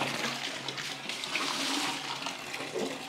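A household toilet flushes, a loud, close rush of water that churns steadily for several seconds without any talk.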